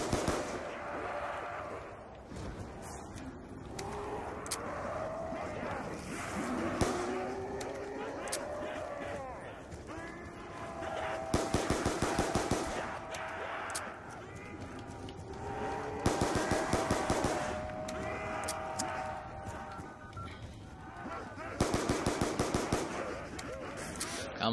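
Gunfire in a zombies video game comes in three rapid, rattling bursts, each a few seconds long, while someone talks over the whole stretch in between.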